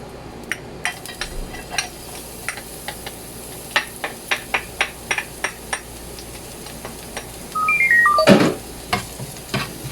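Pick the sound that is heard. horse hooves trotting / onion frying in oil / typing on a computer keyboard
onion frying in oil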